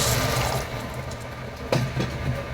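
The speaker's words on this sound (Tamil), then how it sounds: "நம்ம இப்போ இதில் 1 டம்ளர் தண்ணி ஆட் பண்ணிக்கலாங்க." Water being poured from a tumbler into a pan of Tamil-style egg gravy masala after the onion-tomato base has been sautéed, a steady close pour that fades before a couple of brief splashes.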